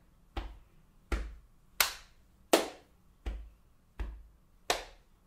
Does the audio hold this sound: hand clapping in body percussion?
yes